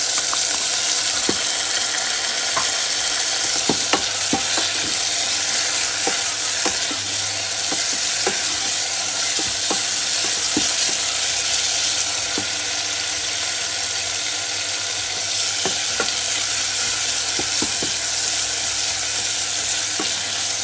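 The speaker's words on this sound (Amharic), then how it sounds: "ቲማቲሙ ጠበስ ማለት አለበት ትንሽ።" Tomatoes sizzle steadily in a hot pan with onions, with repeated scraping stirs from a utensil giving a loose, uneven rhythm over a constant close frying hiss.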